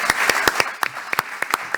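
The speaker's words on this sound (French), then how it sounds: "Applaudissements pour Lionel Séropian," Audience applauding at a civic conference event in Nîmes, a short burst of scattered, fairly light individual claps, moderately close, with faint voices underneath.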